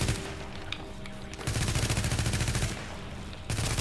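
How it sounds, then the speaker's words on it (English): Automatic gunfire in The Division's Survival Mode, delivered in rapid bursts of closely spaced shots that break off and start again several times, loud and near, with a faint voice underneath. "Who's shooting where?"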